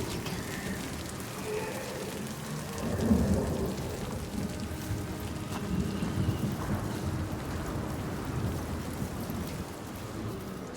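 A storm in the Hellblade II game, brought on by the sea giant: steady rain hisses throughout while deep thunder rumbles swell around the middle, heavy and enveloping.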